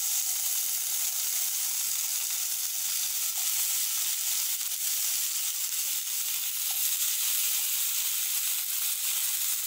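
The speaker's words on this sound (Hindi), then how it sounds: "දැන් අපි ඉතුරු ටිකත් ඒ වගේම ෆ්‍රයි කරගන්නවා." Chicken kebab pieces fry in a pan with a steady, dense sizzle that holds evenly the whole time, close and fairly loud, with no voices.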